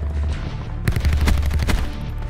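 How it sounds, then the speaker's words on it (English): Gunfire from the video game Call of Duty Black Ops 4 comes as a loud, rapid automatic burst of shots over a steady game background. "Yep, he's still shooting down my streaks."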